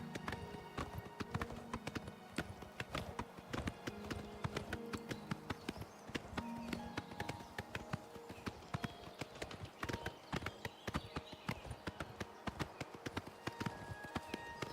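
Horse hooves clip-clop steadily at a riding pace along a road in the video game Oblivion Remastered, a continuous run of close, even footfalls with no talking.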